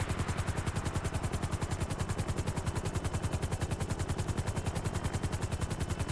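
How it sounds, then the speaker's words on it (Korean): A helicopter in the video game GTA 5 takes off with a fast, steady rotor chop, evenly pulsing and loud throughout, with no other sounds breaking through. "헬기를 사람들을 10명을 엮어서 헬기를 다시 이륙시킵니다"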